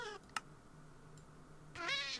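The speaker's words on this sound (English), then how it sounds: "Where is the kitten slippers that keep on making that noise?" Cat hurt meows from Minecraft in an All The Mods 9 modpack, two short sharp yowls separated by a pause, fairly faint over quiet background hum.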